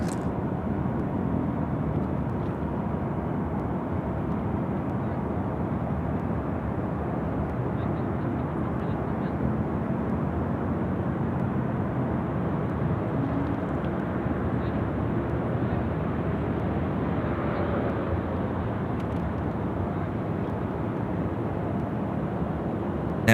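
China Southern airliner landing at Sydney Airport at night, a broad, steady jet roar heard from a distance that swells gently in the middle and holds throughout.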